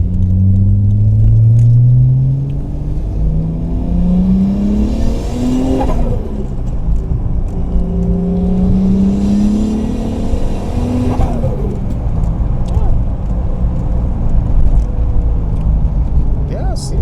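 A Toyota MK3 Supra engine revs up and down through gear changes, rising and falling in pitch as it drives, loud and close, with talking underneath.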